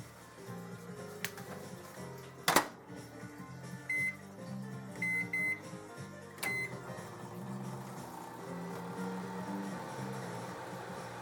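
A steady low hum of a microwave oven running with popcorn corn-on-the-cob in a bag, with a sharp click and several short electronic beeps scattered over the drone.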